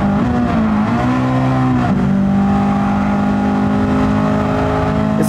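Engine of a 1997 Honda Civic Type R EK in a racing video game, revving hard with VTEC, a loud sustained whine that drops briefly at a gear change, then climbs and holds.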